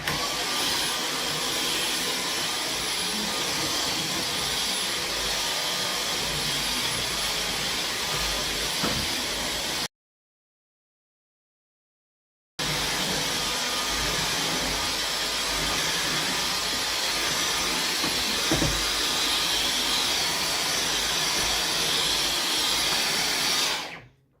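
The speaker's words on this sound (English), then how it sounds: "I think we need a new Dyson. This Dyson just ain't doing it." A Dyson vacuum cleaner runs close by in a steady, loud, hissing roar, cut off by a short silent gap partway through before the same continuous drone resumes and then stops abruptly.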